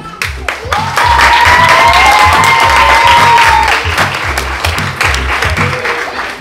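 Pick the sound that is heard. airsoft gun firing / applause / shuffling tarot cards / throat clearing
applause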